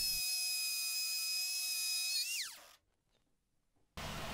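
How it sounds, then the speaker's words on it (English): A router fitted with a 3/4 inch straight bit cutting a 3/8 inch deep track groove in wood, a high steady whine that winds down in pitch and fades out, then a short silence before a noise burst at the end. "For this, I'll use a 3/4 inch straight bit, which is the same width as my track, and I'll go 3/8 deep, making two passes"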